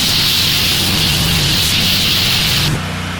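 Rampage car wash chemical is sprayed onto a vehicle as a loud, close, continuous hissing spray that stops abruptly near the end, leaving a lower background rumble.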